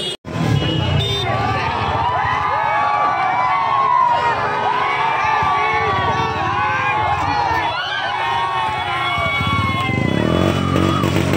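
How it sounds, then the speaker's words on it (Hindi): A huge, dense crowd gathered to see two celebrities at an event in Ambikapur, with constant loud chatter and shouting filling the scene throughout, occasional cheers rising above the steady roar. "मुकुल और सोना को देखने के लिए इतना ज़्यादा भीड़"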